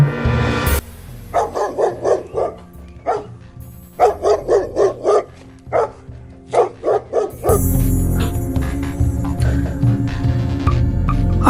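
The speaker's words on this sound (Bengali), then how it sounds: "আর দূর থেকে কুকুরগুলো ঘেউ ঘেউ করে চিৎকার করতেছে।" Dogs barking in rhythmic bursts of several sharp barks with short pauses, set against a low droning ambience for a horror story, ending in a louder swelling background wash.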